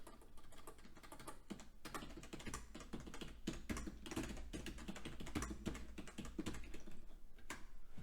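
Computer keyboard typing a command at a Windows command prompt, with quick, steady key clicks in a continuous run, close but quiet, and no voices.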